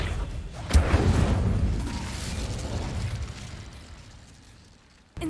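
Accio spell cast in Hogwarts Legacy, a swelling magical burst with a whooshing boom that rises sharply, then slowly fades over several seconds before a final abrupt pop.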